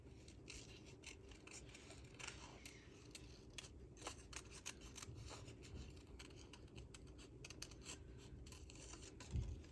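Scissors rough-cutting around small paper pieces for a Halloween journal craft, a quiet series of quick crisp snips and rustles at an uneven pace, close by, ending with a soft bump.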